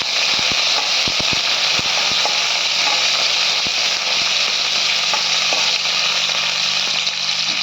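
Broken green chilli and curry leaves spluttering in hot oil: a loud, dense, unbroken hiss of frying, with a few sharp low pops and clicks scattered through. No talking.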